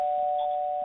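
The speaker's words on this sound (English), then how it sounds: "My doorbell's ringing." A home doorbell rings with one steady, sustained electronic tone, loud and clear for under a second, with no voices over it.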